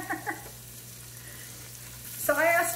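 Vegetables dropped into melted butter in a pot for chicken and corn chowder, a quiet steady hiss that turns into a louder sizzle near the end after a couple of faint knocks.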